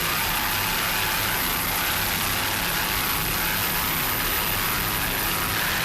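A 42-foot Fountain V-Class powerboat runs on twin 572 cubic inch, 1,500 horsepower Stotler racing engines, a loud, constant, wind-blasted roar with no breaks or talking.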